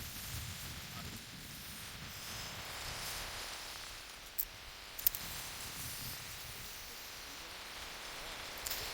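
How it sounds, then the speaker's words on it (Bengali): Rain falls with wind beside a large lake, a soft, steady hiss of drops and gusty rustle throughout, with a few faint knocks near the middle. "হাওয়া দিচ্ছে, বৃষ্টি পড়ছে।"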